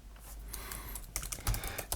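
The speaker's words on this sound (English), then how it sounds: "so let's type a password" Quick, irregular clicks of keys being pressed on a computer keyboard while a password is entered, close and fairly crisp, with a few louder strokes near the end.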